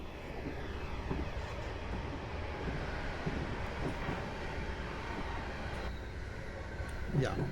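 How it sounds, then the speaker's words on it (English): A passenger train approaching at night on the Portsmouth Direct line in Train Simulator 2017, a continuous low rumbling roar that stays fairly even and builds slightly toward the end, with a voice talking over it. "here comes the train in the dark"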